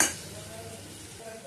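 Spoon stirring garlic paste into Kathiyawadi vegetable biryani in a pot, a brief clink at the start followed by faint scraping and soft sizzling.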